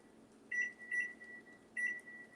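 A kitchen oven timer gives three short electronic beeps while being set, clear and close over a faint steady hum.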